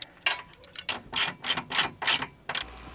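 Ratcheting wrench tightening a mounting bolt on a Calpha 200 W solar panel during an array install, heard as about eight close, loud bursts of clicking in a steady rhythm, with no talk.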